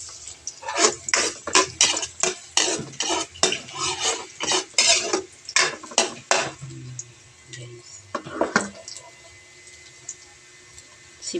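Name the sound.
sautéing garlic and ginger for chicken pastel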